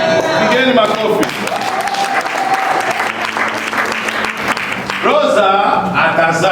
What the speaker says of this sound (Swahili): Pigeni makofi.